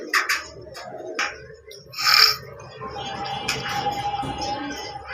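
Fancy pigeons in a loft coo in soft, rolling calls, with sharper bird chirps and a brief burst of noise around the middle, a voice faintly present.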